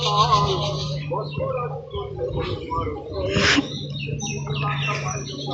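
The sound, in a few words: various birds calling near a village pond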